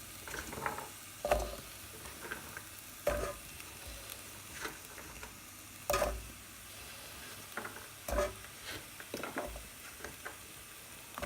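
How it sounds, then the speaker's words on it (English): Sweet potato and carrot pieces are tipped into a pan and stirred with a spoon, giving a series of sharp scraping clatters about every two seconds over a soft, steady sizzle with no talking. "go ahead and add in the sweet potatoes. And also the carrots"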